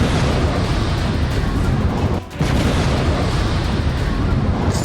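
Ukrainian strikes on Russia, including the Rostov airbase, come as a loud, dense, continuous rumble of blasts and firing that briefly dips midway before surging back.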